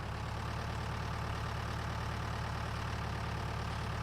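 Tractor engine idling in Farming Simulator 19, a steady low rumble with a constant hum that holds evenly throughout, close and moderately loud, with no talk.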